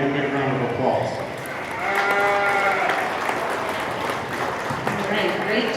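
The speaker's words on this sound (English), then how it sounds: "Let's give everybody a big round of applause" Audience applause at a county fair sheep show, a steady broadband patter lasting the whole stretch, with an announcer's amplified voice and animal calls carrying over it.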